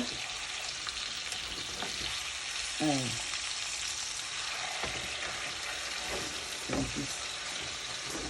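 Meat fries in hot oil with a continuous, fairly loud sizzle and spatter, punctuated now and then by the scrape of stirring.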